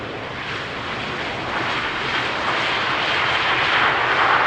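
Airliner arriving on runway 18R at Amsterdam Schiphol, a broad roaring engine rush that grows steadily louder and nearer as it approaches, with no talk.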